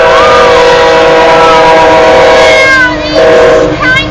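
A southbound Union Pacific tanker freight train passes north of Elkhart, Iowa, on the Spine Line, loud and close with sustained harmonic squealing and whining tones over a rumbling rolling noise that shifts and wavers toward the end.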